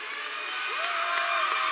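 A high-school boys' basketball crowd cheers and applauds a player leaving the game, a steady wash of gym noise with a single whoop rising over it, heard from a distance.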